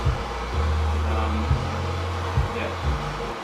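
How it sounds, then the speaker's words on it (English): A hand torch or heater hisses and roars in bursts while heating thick exhaust piping before welding, part of an MK3 Toyota Supra turbo install, with a low steady drone running underneath and no talk. "heating it up so that when I weld it, hopefully it's going to stick easier."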